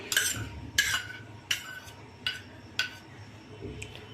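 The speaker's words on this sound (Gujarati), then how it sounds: "આ બધું એડ કરીને મિશ્રણને સરસ રીતે હલાવી દેવાનું છે" Spoon clinking against a bowl while grated bottle gourd, carrot and capsicum are mixed into handvo batter, five or six distinct light scraping taps spaced about every half second, no talking.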